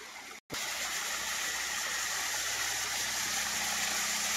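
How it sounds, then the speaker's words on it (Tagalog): A stream runs across farm property in Cavinti, Laguna, giving a steady close rush of water that cuts out for a split second near the start, then carries on unbroken. "yan po yung pinaka sapa doon sa nadaanan natin sa loob ng property"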